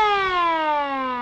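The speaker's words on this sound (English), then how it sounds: "I modified it and put the siren cover on a modern siren, and it's functional and everything." A modern siren fitted under a vintage-style siren cover on an early-look Harley-Davidson motorcycle wails loud and close in one steady, slowly falling tone.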